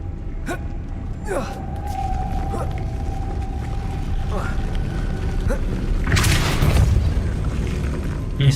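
A Depulso spell cast in Hogwarts Legacy swells into a loud, bright whooshing burst with a booming low rumble, rising out of a layer of game effects and mechanical noises.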